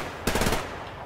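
Gunfire in the video game Survarium, a single sharp, loud burst of rapid shots lasting about a third of a second before fading into background noise.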